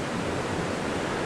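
A waterfall roars as a steady, dense rush of falling water, a continuous broadband wash with no breaks and no voices over it.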